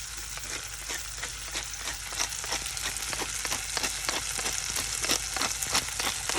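Canned white beans reheat in a pan with seasoning, giving a steady crackling sizzle broken by regular scraping stirs, close and clear with no talk.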